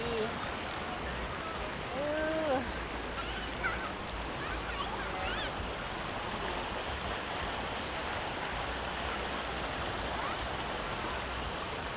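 Water from a waterfall rushes and splashes in a steady broadband wash, a close, continuous flow with a few faint bird chirps rising above it.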